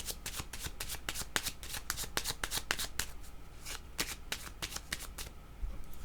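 A deck of playing cards is shuffled again and again, giving dense bursts of crisp riffling flutter with brief gaps between them. The sound is close and steady and stands alone without talk.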